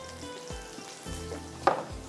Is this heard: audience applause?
no